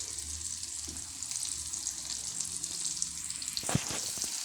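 Fish frying in a small amount of coconut oil in a pan, a steady close sizzle and crackle throughout with a few sharper pops near the end.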